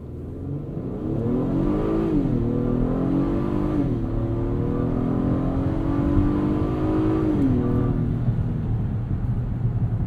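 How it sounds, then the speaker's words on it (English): The V6 engine of a 2022 Acura MDX revs up in two long pulls, pitch climbing and dipping, loud and close with no talking. "this V6 still sounds very healthy. Makes good noises."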